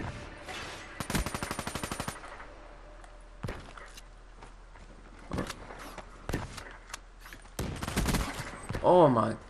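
P90 submachine gun in Black Ops 3 multiplayer, firing a rapid burst of rounds around the one-second mark, followed by scattered single shots and footsteps, with a voice speaking briefly near the end.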